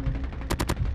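Gunfire in Call of Duty Mobile, a quick burst of three rapid, loud shots midway through, set against a continuous low rumble of game noise.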